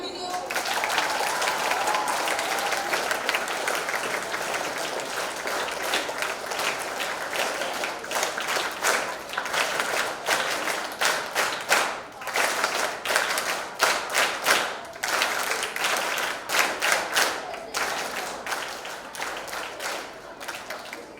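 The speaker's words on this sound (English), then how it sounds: "Let the clapping continue." Sustained audience applause at a school event, dense continuous clapping that grows more ragged and uneven in its later part, with crisp individual claps standing out near the end.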